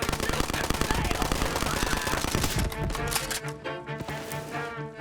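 Rapid automatic gunfire in Borderlands 3 rattles loudly and continuously, dense bursts of shots that thin toward the end as scattered impacts and a voice-like tone carry on.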